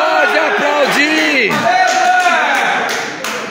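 A crowd at a football match roars and shouts loudly after a penalty kick, with wavering cries and whoops over a steady crowd din and a few sharp claps.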